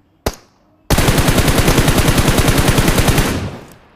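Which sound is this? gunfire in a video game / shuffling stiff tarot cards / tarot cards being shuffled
gunfire in a video game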